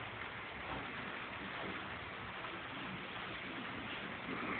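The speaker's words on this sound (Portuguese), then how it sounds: "Como eu odeio chuva." Rain falls steadily in a continuous, soft hiss with no pauses, heard alone at low level.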